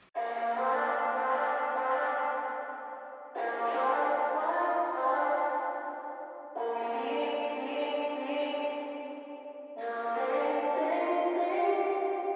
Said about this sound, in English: I chopped up the vocals in this section and drowned them out in reverb to give a nice spacey feel